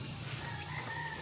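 Chickens being fed cluck softly, a brief, faint burst of fowl calls with no voices over it.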